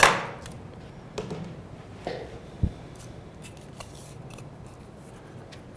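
Material cut to a straight edge with scissors, a sharp close snip at the start followed by a few faint, sparse clicks and taps over quiet room tone.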